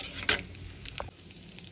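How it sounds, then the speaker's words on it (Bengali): Whole cumin seeds frying in hot oil for a tempering, heard as a steady, close sizzle with a sharp burst of crackle early on and lighter pops and stirring after it. "তেলটা আমার গরম হয়ে গেছে, এবার আমি ফোড়নে দিয়ে দেবো গোটা জিরে।"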